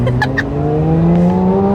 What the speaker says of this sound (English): I hope you can hear the noise that I am making from this car right now.